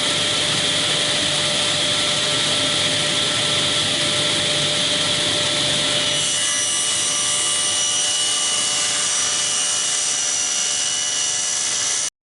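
A table saw rips wooden boards to size for dovetailed trays, a loud, continuous whirring roar that runs the whole time and shifts in tone partway through as the cut changes.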